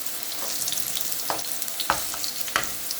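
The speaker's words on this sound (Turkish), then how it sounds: "güzel güzel kızarmasını bekliyoruz" Vegetable fritters (mücver) fry steadily in a pan with oil, giving a continuous close sizzle punctuated by a few sharp pops and crackles.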